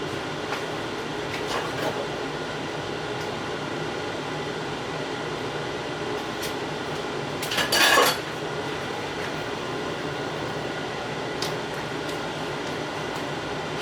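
A basil spice container is opened in a home kitchen while red beans and rice are being made: one short, sharp rattle and click stands out briefly against a steady low room hum.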